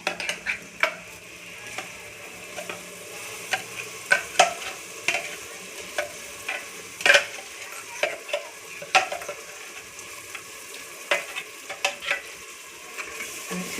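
Onion and masala paste stirred while frying in a pan for home-style handi chicken, giving a steady low sizzle broken by repeated scraping clicks of the spoon against the pan, close and clear with no talking.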